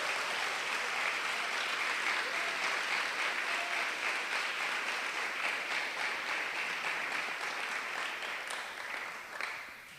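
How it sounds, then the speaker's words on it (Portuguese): Steady, sustained applause fills a church service, with dense clapping holding evenly for about eight seconds before tapering off at the end. "Dê um aplauso a Jesus"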